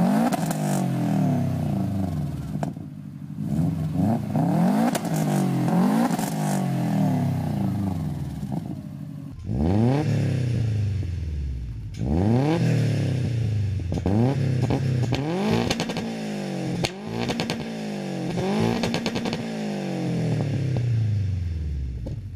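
A Subaru Impreza WRX STI four-cylinder turbo boxer engine revs through repeated gear pulls, each rising sweep cut off by a shift, loud and close over about twenty seconds with clattering between pulls.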